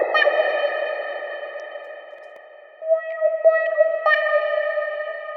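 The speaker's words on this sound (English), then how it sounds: "so that the bandpass filter is moving around automatically. That way you get these interesting filter sweeps." A sustained synth tone in a techno track made in Ableton is shaped by an automated bandpass filter, droning with echo-like repeats, then thinning out before returning with pulsing accents.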